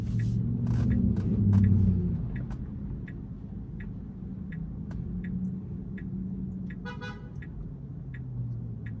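A Tesla on Full Self-Driving rolls along a suburban street in Bronxville and New Rochelle, New York, with low cabin road rumble and a regular faint ticking indicator, swelling briefly early on.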